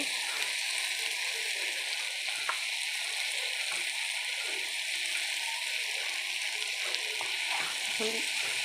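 Rohu fish and cauliflower being stirred and turned over together in a pan, giving a steady, dense sizzle of frying with faint scraping strokes throughout, no voices.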